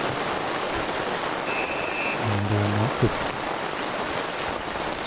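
Heavy rain pours steadily on an outdoor Australian rules football ground during an NTFL match, a dense continuous hiss throughout, with a brief low tone and a commentator speaking briefly over it.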